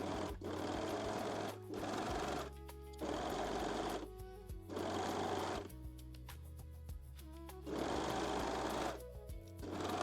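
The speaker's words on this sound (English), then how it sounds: "sew the cup seams using a serger or a zigzag stitch" Sewing machine or serger stitching the cup seams of a lace bralette, running in long loud bursts separated by brief pauses, with a steady motor whir and a fast needle chatter throughout.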